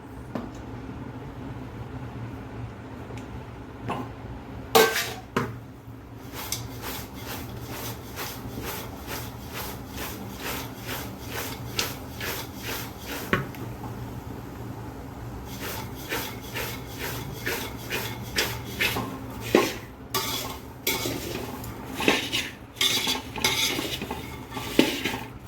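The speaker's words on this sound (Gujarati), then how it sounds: "હવે આપણે પપકોર્ન એડ કરી દઈએ।" Puffed sorghum and maize popcorn is stirred in a pan with a spoon, giving continuous close scraping and rattling with frequent sharp metallic clicks over a steady low background, with no talking.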